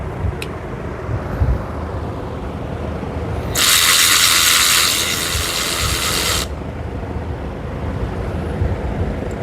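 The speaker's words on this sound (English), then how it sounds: "so I'll get my cordless ratchet" A cordless ratchet driving a bolt on a car during a power steering fluid cooler install gives one steady buzzing whir of about three seconds, close and fairly loud, set between quiet workshop background.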